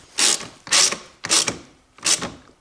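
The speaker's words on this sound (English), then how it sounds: "I take my 10mm socket and I fasten this bolt" A 10mm socket ratchet fastens a bolt on a Toyota Prius, giving four close, loud bursts of rapid pawl clicking with short pauses between strokes.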